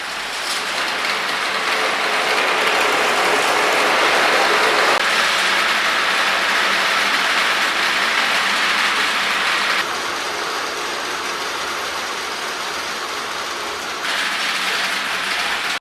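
A homemade marble conveyor machine sends a stream of falling marbles to drive a generator, making a dense, steady rattling clatter like heavy rain. The sound is loud and continuous, and its texture shifts partway through.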